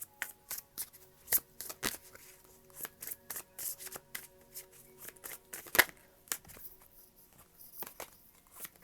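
Chakra Wisdom Oracle cards are shuffled by hand in quick, close bursts of riffling and slapping, a brisk irregular patter of crisp card clicks with no talking.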